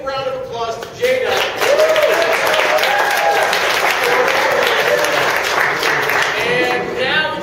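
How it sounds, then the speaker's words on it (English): Audience applause at an improv comedy festival show, building sharply after a second into loud, sustained clapping with some cheering mixed in, easing slightly near the end. "But everybody give a big round of applause to Jada."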